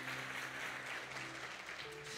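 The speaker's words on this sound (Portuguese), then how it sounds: "Aplauda o Senhor" A church congregation claps for the Lord during a sermon, a brief, faint, even patter of hands over a low sustained musical hum.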